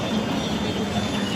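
A train rolls into a station as a steady, loud low rumble of rail cars, even and continuous with no voices.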